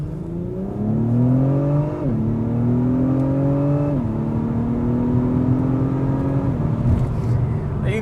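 An Acura TLX Type S pulls hard in sport mode, its engine note rising steadily through the revs with two clear drops at the gear changes. The sound is loud, close and sustained, and no voice can be heard.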